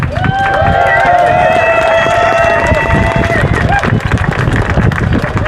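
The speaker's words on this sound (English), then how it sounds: "Let's give a big round of applause for these brave souls." Crowd at the start of the Tahoe 200 endurance run applauds and cheers, loud continuous clapping mixed with whoops and shouting voices throughout.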